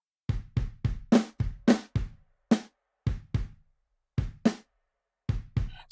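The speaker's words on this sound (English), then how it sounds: "So the kick and the snare together sounds like this" Mixed MIDI kick and snare drums, in a pattern of about fifteen sharp, close hits with short decays and clean silence between them, the snare strokes brighter than the deep kicks.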